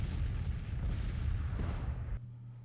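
Distant artillery in the Grand Tactician: The Civil War strategy game gives a steady low rumble of massed cannon fire, a dense rolling boom that fades into quieter background near the end.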